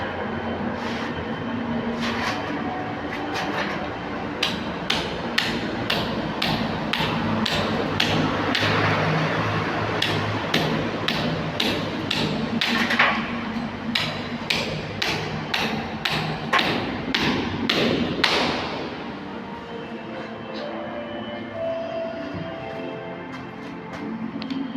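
Sharp hammer blows in a steady, regular rhythm, close and loud over a constant background hum, stopping near the end.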